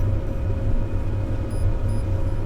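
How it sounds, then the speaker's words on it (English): Ship engines in The Last Caretaker video game, a steady, loud low hum and rumble that stays constant throughout, with no voices. "I suppose it could be the engines?"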